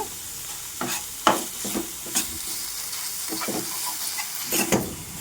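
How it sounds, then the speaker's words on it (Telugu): Vegetables with chopped onion, green chillies and ginger-garlic paste sizzle steadily in a pan for vegetable manchurian, with repeated sharp scrapes and clatters from stirring rising over the constant frying hiss, close and fairly loud. "వీటిని కూడా అటు ఇటు తిప్పుకుంటూ చక్కగా ఫ్రై చేసుకోవాలి"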